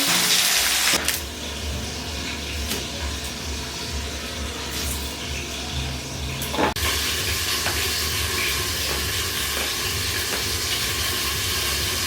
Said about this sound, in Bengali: এদিকে মাছ ভাজা হয়ে যাক